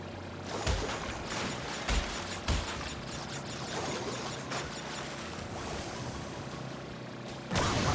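A motorboat in Crash Bandicoot N. Sane Trilogy races across water with a steady, loud engine roar and rushing spray, punctuated by a few splashy bumps, with no voices.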